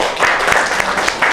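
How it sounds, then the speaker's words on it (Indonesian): Classroom audience in a teacher-training session clapping for a presenting group, a brief steady burst of applause heard close and fairly loud. "Tepuk tangan untuk kelompok"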